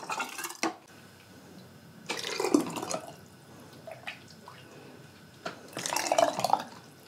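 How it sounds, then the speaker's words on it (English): Home-canned taco soup being ladled into jars in a kitchen, with soft pours and drips, light clinks of glass and utensils, and a few louder clatters spaced across the stretch. "So I'm gonna start filling up jars, and I'll bring you guys down here and you can watch the process."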